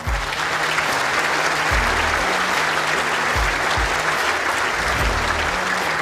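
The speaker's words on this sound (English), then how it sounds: "Continue that round of applause" Steady applause from the audience at a World Indoor Bowls Championship presentation, continuous and fairly loud, with a low voice talking faintly underneath throughout.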